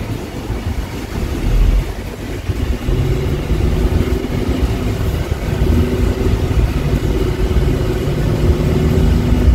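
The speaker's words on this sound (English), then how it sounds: "Take it for a little test drive." A 2012 Mercedes-Benz C250 drives on a test drive, giving a loud, steady rumble of engine and road noise heard from inside the cabin, with no voices.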